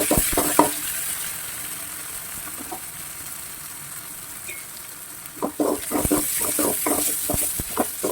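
Tomatoes frying in a pan for an egg and potato gravy give a soft steady sizzle, broken by clusters of sharp clinks and scrapes of stirring that come mostly near the start and again toward the end.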